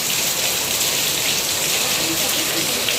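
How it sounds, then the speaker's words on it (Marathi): Heavy monsoon rain pours steadily and close, a dense unbroken hiss of drops hitting surfaces with no pauses. "जोरदार पाऊस आलाय बघा."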